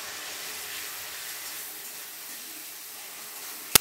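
Chopped onions go into a hot pan with soy sauce, chilli sauce and a splash of water for restaurant-style chilli chicken, giving a steady, moderately quiet hiss and sizzle throughout with no talking.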